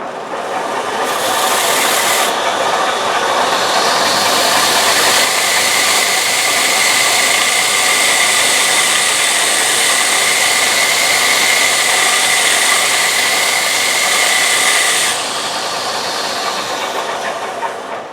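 Continuous loud, abrasive hiss of sanding a wooden platter spinning on a lathe, steady throughout with a slight drop in intensity near the end.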